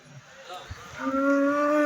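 An HF Jersey cow lows at a Sunday cattle market in Chintamani, giving one loud, close moo that rises and holds steady.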